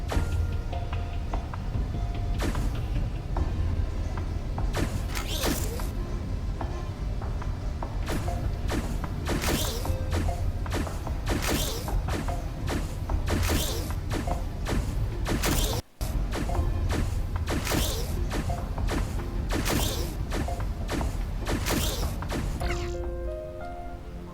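Welding and pusher machines in the Infinifactory video game assembling a missile from fuselage and nose cone: a steady mechanical hum under a regular series of sharp clanks and bursts, close and continuous.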